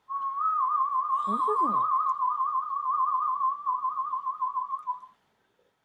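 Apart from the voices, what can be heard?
person whistling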